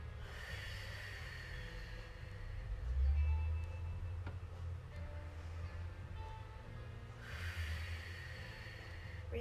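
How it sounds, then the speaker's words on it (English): Steady, audible breathing during a stretching exercise class, with slow inhales and exhales under faint background hiss and an occasional stronger breath. "Breathing, breathing, breathing."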